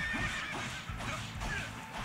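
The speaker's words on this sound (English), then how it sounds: "Hitting an innocent horse." A horse neighs and whinnies in the Fire Emblem Warriors video game, a loud, close, wavering call lasting about two seconds over game sounds.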